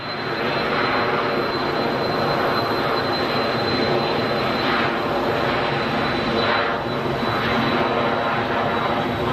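A Phenom business jet roars loudly and steadily as it takes off at Geneva Airport, a broad continuous rushing thunder with a thin high whine, no talk.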